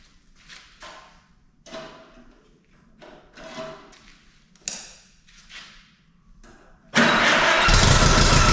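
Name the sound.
Allis WD45 tractor engine starting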